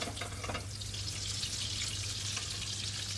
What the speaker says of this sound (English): So you might need to like shallow fry them a little bit